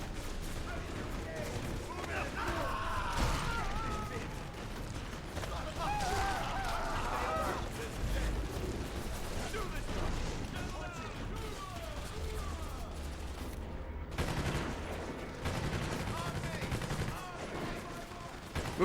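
Guns fire in the video game Prototype, with dense bursts of gunshots and booms layered with continuous game action and a voice speaking over the top.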